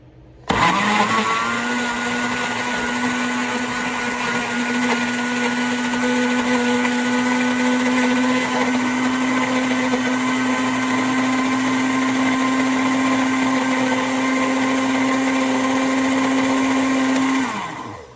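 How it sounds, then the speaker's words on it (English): A blender blending a chocolate milkshake whirs loudly and steadily for about seventeen seconds, a sustained motor drone that starts abruptly and cuts off at the end. "So my blender went kind of fast."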